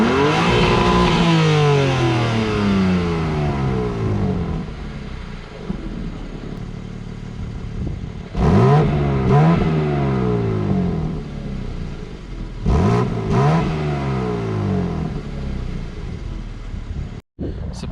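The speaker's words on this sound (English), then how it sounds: "Now we'll show you how it sounds like" A cold 2023 BMW M2 engine and exhaust are revved repeatedly up close. Loud sweeping climbs and falls come between sharper blips, each followed by a settling idle rumble.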